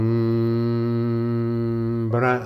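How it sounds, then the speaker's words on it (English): A person hums with the mouth closed during a breathing meditation, holding one steady, rich, close-up tone for about two seconds before it breaks off into a breathy exhale. "With the mouth closed, we hum."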